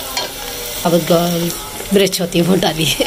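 An onion browning with cumin seeds in a frying pan, sizzling steadily at close range under a voice talking throughout.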